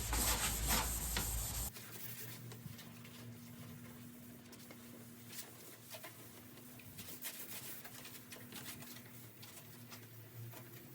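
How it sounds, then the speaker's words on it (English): Scotch-Brite pad scuffing bare metal on a 1974 Ford Bronco body panel, heard as a steady rubbing scrape with a low hum underneath, close and moderately loud, after a brief louder burst at the start. "After I hit it with a Scotch-Brite pad, I'll clean it again before I prime it."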